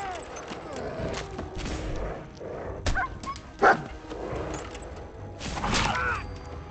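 A dog in the video game Fallout 4 barks, yips and whimpers in short bursts against game sounds, with a couple of sharp yelps standing out.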